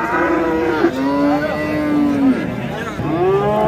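A cow at a livestock market in Mastchoh lets out a long, loud, close moo, pauses briefly, then starts a second drawn-out moo, with faint crowd murmur underneath.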